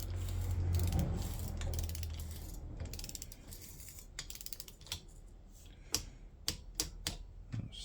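A torque wrench clicks and ratchets while bolts on a Yamaha SRX600 motorcycle are tightened to 10 Newton meters, with sharp, irregular mechanical clicks that become more distinct toward the end over quiet background noise.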